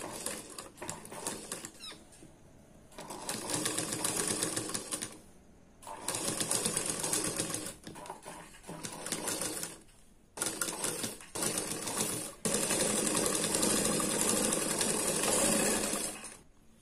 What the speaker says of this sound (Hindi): इसके बाजू में सिलाई चलाना है इस तरह से